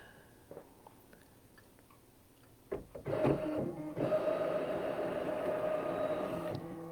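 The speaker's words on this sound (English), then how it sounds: "The carriage of the embroidery unit will move" After a few faint clicks, the embroidery unit's carriage on a sewing machine starts up with a sharp mechanical clatter and then settles into a steady whirring hum that continues to the end.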